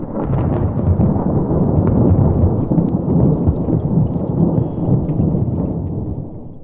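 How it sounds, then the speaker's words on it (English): Thunder rolls in an animated family comedy, a long, loud, continuous rumble of storm noise with rain-like hiss, sustained throughout with no talk over it. "It sounds like thunder."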